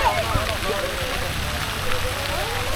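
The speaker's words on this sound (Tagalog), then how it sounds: "Umuulan!" Rain falls steadily in Baguio, a dense continuous patter and hiss on surfaces throughout, moderately loud and even, with voices talking in the background.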